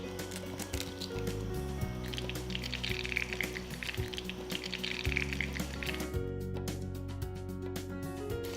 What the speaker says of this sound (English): So I'm gonna fry an egg sunny side up